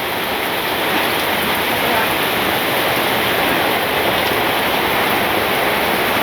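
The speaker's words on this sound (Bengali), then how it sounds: "এই বৃষ্টি যাইতো না।" Heavy rain pours down steadily over a village, a dense, even hiss that stays loud and unbroken throughout with no talking over it.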